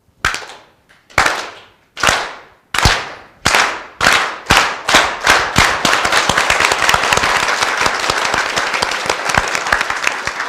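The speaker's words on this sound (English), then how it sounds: "It's called the aplauso organizado, organized applause." Organized rhythmic applause at a community health town hall rally, a crowd starting with single slow synchronized claps that speed up steadily until they merge into continuous loud clapping.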